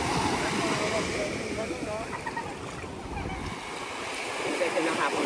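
Surf rolls onto a beach at San Fernando, La Union at sunset in a steady wash of breaking waves, with wind buffeting the microphone and people talking nearby.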